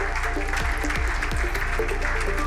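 An audience at an ESG conference in London applauds as a panel takes the stage, a dense steady patter of many hands clapping at once, fairly full and sustained.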